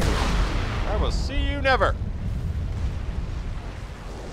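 Weapon fire and explosions from the video game Crysis form a dense, loud, rumbling barrage, with a voice speaking over it.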